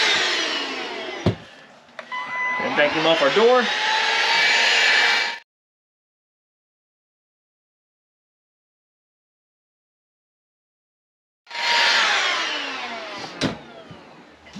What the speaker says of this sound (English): Come right here on the top, go ahead and vacuum off this.